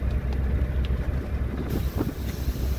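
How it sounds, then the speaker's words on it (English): Steady wind roaring and buffeting outside a parked truck during a short-haul delivery day in Plattsburgh, a continuous low rumble with gusty swells and no talking. "Boy, that wind's kicking pretty good out there."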